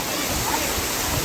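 Steady rushing roar of a waterfall during a jungle trek in Maharashtra, a dense continuous wash of falling water heard briefly and close with no clear voices.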